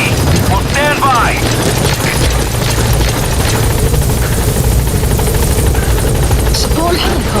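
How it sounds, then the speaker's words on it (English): A support helicopter in Metal Gear Solid 5: The Phantom Pain thrums loudly and continuously as it arrives at the landing zone, its rotor drone heavy, with some chirpy game sounds over it. "Support helicopter has arrived."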